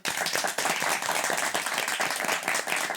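Audience applause for an applause meter, dense close clapping from many hands, loud and continuous throughout.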